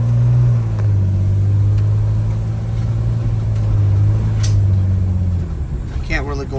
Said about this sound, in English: it feels a lot smoother acceleration as I'm trying to actually accelerate this van right now